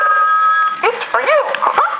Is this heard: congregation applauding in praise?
no